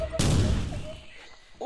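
A grenade detonates in the game Livalink with a heavy, booming blast that rumbles and fades over a second, close and loud, with faint tones before and after.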